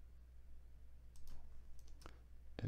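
A few sharp computer mouse clicks while drawing a transfer fork in SolidWorks, scattered and fairly faint over a low steady hum.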